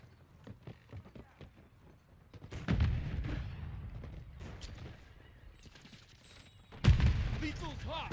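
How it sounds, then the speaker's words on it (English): A grenade explodes during a Call of Duty multiplayer match. Two heavy, booming blasts land about four seconds apart, surrounded by scattered gunfire and clattering game noise. "I'm gonna toss a grenade in there"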